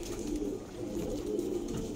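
A flock of kept flying pigeons gives repeated low cooing calls, rising and falling in soft rolling waves from nearby birds, with no one speaking.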